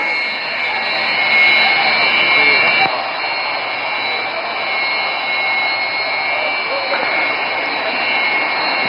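Indian Air Force Su-30 MKI and Rafale fighter jets roar at an air show, a loud, steady, unbroken jet-engine drone holding throughout.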